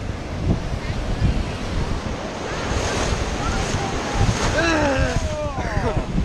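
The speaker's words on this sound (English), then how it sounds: "Look at those waves." Waves roll and crash steadily close by under gusting wind noise, with excited voices and a few high whistling tones rising over the surf.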